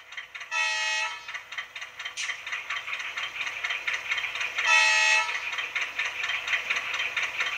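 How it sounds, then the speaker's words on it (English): Two loud blasts of the two-tone horn on a PIKO HO-scale Whitcomb 65-ton model diesel locomotive, high and low tones together, separated by a steady rattling locomotive engine drone. "F5 is both together, the high and low tone horns."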